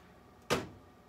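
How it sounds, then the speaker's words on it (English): A microwave's soft-close door, newly installed in a tour bus, shuts with a single soft, muffled thud in an otherwise quiet room. "One of the number one features that they keep talking about with this particular unit is the soft closed door."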